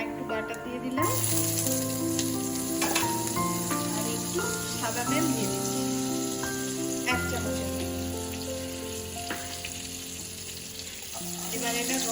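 Bay leaves and whole garam masala sizzle in hot oil, a faint crackling hiss running throughout beneath loud, sustained background music.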